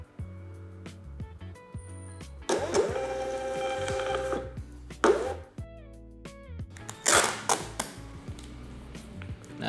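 An EPPOS EP9220UB label printer runs a shipping label through in bursts, with a longer busy stretch of whirring and clicking feed noise, then short mechanical spurts and a final run, close and fairly loud.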